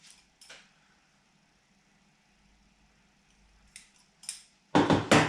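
Scissors snip into the corners of a sewn fabric sleeve placket, a few short, sharp, close clips spaced out over quiet, with a louder cluster of cuts near the end.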